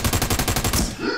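Rapid automatic gunfire in a video game, a tight burst of about eight loud evenly spaced shots close by, ending abruptly.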